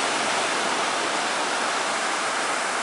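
Heavy sea waves after a strong storm, a steady broadband roar of surf with no breaks or distinct crashes, loud and continuous throughout.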